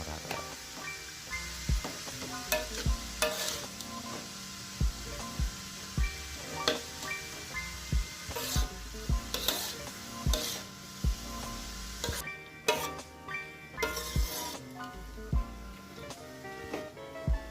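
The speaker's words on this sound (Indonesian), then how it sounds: "lalu diaduk-aduk lagi biar merata" Repeated scraping and clinking of a utensil stirring pempek filling in a pan, irregular strokes over a faint sizzle, close by.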